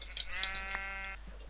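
A sheep in the video game Minecraft gives a single clear, wavering bleat, close and fairly loud over a low steady hum.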